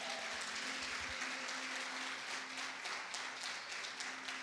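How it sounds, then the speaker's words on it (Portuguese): Members of a church congregation clap during a sermon, a faint, even patter of many hands with a low sustained tone beneath it, kept quiet and distant throughout. "Você pode aplaudir o nome do Senhor?"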